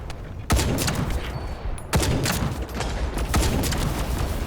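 Sustained automatic gunfire in the game The First Descendant, a dense rapid barrage with sharp louder blasts recurring roughly every 1.5 seconds.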